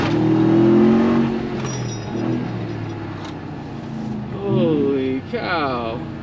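Ram TRX pickup truck on an autocross course, its engine droning loud and close before revving up in rising sweeps near the end, with people talking over it.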